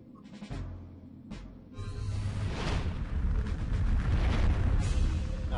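A Super Fire spell erupts in the Septerra Core video game: a couple of short bursts, then a swelling, rumbling, explosive blast with whooshing fire that grows louder and fills the rest of the moment.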